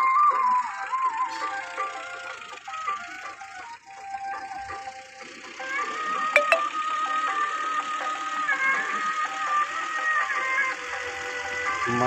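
A Fiat 480 tractor engine runs steadily at a low, even idle, heard from nearby at moderate level, with a brief sharp clank partway through and no talking.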